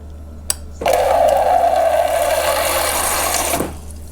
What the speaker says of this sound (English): Let's see if the water's still coming out of the dispenser.